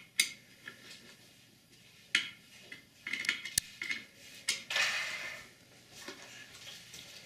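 Steel kitchen knife drawn across a diamond sharpening device, a handful of separate scraping strokes with sharp clicks of metal, one longer rasping pass near the middle, close and fairly quiet with no talk.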